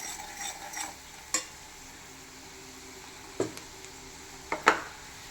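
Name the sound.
stirring fish pickle mixture in a pan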